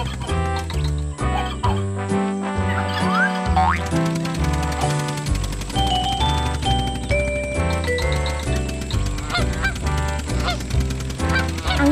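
Goose honks sound repeatedly over a busy, bouncy musical backing with jingling and boinging effects, loud and close.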